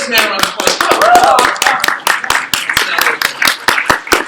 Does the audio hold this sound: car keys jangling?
no